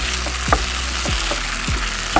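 Tawa fry sizzling in a pan as it is stirred, a steady close crackle of frying broken by a few scraping strokes of the spoon.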